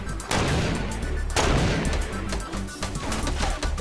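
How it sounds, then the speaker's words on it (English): Rapid gunfire in the video game Fortnite crackles continuously, with dense bursts of shots close by and louder volleys at the start and around the middle. "Is someone shooting behind at me?"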